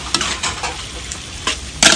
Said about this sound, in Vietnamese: Mình xào cho nó thơm.